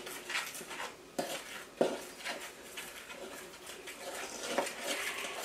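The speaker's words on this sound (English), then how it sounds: "And then we're going to mix that around like so." Cinnamon being stirred into a bowl of pumpkin muffin ingredients, a spoon scraping and clinking against the bowl in irregular strokes with a couple of sharper knocks, close and fairly quiet, no voices.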